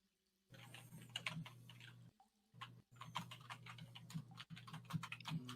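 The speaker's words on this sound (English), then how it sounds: "I can hear a lot of typing from somebody" Computer keyboard typing heard faintly over a voice chat line, quick irregular clicks in bursts with brief pauses, no talk.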